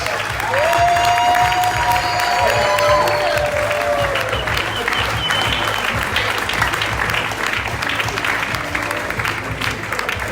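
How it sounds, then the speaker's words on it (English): An audience at a business training event gives a steady round of applause. The dense, even clapping runs for about ten seconds, with a faint whistle-like tone above it near the start. "let's give a big round of applause to Justin Snyder."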